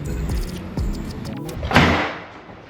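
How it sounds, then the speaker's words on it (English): A car door closes with a hard slam near the end, after some rustling and low muffled movement in a vehicle, heard close and alone without talk. "That door always slams."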